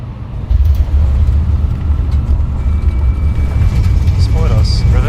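Airbus A320neo in Microsoft Flight Simulator rolling out after landing with thrust reversers, a loud steady low roar filling the cabin, while a voice speaks over it.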